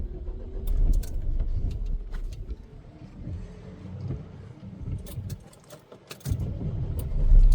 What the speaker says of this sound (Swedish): Den här bilen är lite halvseg ibland, men det går bra.